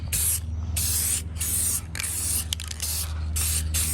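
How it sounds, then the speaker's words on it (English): Spray gun applying clear coat to restored 1950s Sears Dunlap drill press parts, a close, loud hissing spray in several bursts of about half a second to a second each, with short pauses between and a steady low hum underneath. "I'm going to add a coat of clear to all these parts"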